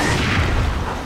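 A gunshot fires in the video game Resident Evil 4: one loud, booming blast that fills the moment.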